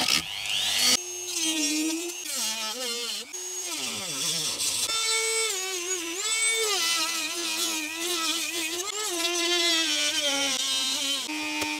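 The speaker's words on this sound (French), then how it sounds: "Donc vous pouvez utiliser une petite Dremel. Et simplement, on va découper gentiment le plastique." A small Dremel rotary tool cuts through the plastic of a car radio housing on a Citroën Berlingo or Peugeot Partner, giving a continuous close high whine that rises and falls in pitch as the load changes.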